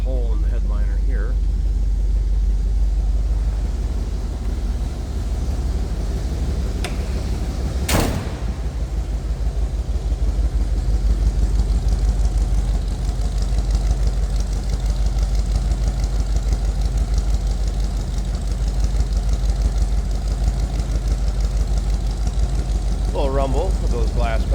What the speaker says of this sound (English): Rumble with those glass packs on there.